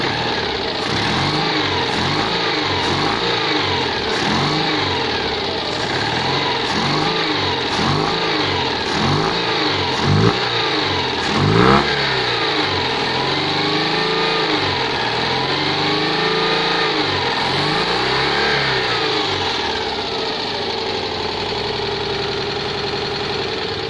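A Citroen 2CV engine with a new exhaust revs up and down repeatedly in quick rhythmic blips, then holds a steadier idle. It sounds close and loud, with no talking over it.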